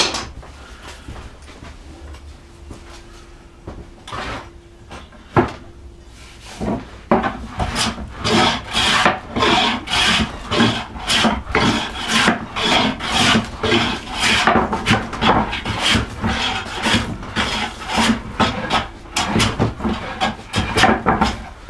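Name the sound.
hand plane planing wood to remove wind and bow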